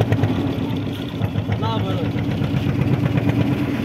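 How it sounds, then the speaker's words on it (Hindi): Boat engine on a short passenger boat ride drones steadily, a continuous mid-level hum with people chatting over it throughout. "boat ride"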